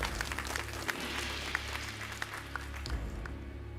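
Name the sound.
applause for quiz participants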